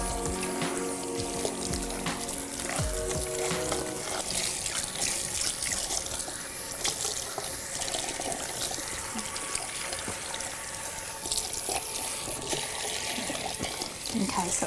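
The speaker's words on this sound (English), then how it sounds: "we need to give it a really, really good final rinse" Tap water running steadily while shampoo is rinsed from a client's hair at a salon basin, a continuous splashing rush with trickles and small knocks, heard close up throughout.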